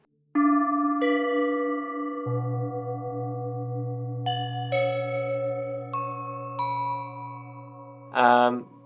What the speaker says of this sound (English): we gotta try Goat Bells.